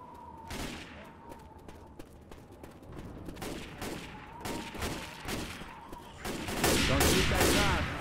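Rapid gunfire in the zombie shooter Left 4 Dead 2: repeated sharp shots in irregular bursts, growing into a dense, louder volley toward the end, with game sounds in between.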